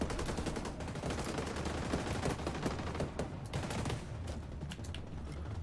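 Dense, continuous gunfire in a video game, rapid automatic bursts and overlapping shots crackling nonstop at close range for several seconds without a pause.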